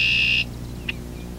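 A red-winged blackbird's song rings out as a loud, steady buzzy trill for under half a second, then cuts off, leaving a single faint chip and quiet background.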